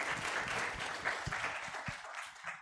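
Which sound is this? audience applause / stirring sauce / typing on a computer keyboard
audience applause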